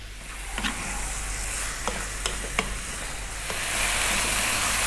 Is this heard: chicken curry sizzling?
yes